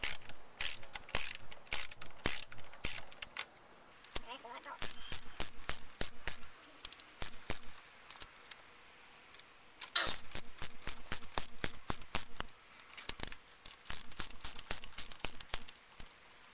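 Ratchet clicks rapidly in bursts while loosening 10mm bolts on the timing belt cover of a 7th-generation Honda Civic, close and fairly loud, with short pauses between runs of sharp metallic ticking and no talk.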